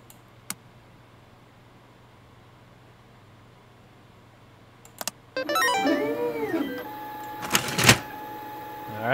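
An office printer in PC Building Simulator whirs into a mechanical run after a couple of clicks, with rising and falling motor tones and clacks, close and loud, without talk.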